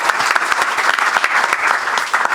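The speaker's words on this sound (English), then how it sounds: "Let's give Ted a round of applause." Applause from the audience at a press conference announcing Old Dominion University joining the Sun Belt Conference, a dense, steady round of clapping that stays fairly loud from start to finish.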